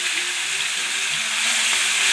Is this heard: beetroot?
yes